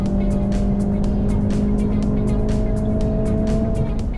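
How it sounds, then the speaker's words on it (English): A Honda Civic Si at speed on the VIR racetrack, its engine drone holding a steady, loud note throughout with faint wind and tire noise, recorded close from the car. "the Si carries so much more speed through the second part of Hogpen that it can get a higher top speed at the finish line"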